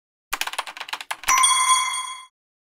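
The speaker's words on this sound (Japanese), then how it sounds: "電話の音、部室からや" A synthesized telephone ring effect in a comedy skit set in a school club room, heard alone: a quick flurry of bright electronic ticks followed by a sustained steady ringing tone lasting about a second before cutting off.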